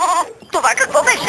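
A phone ringtone of a goat bleating sounds briefly at the start, a wavering nasal call, before a person speaks over it.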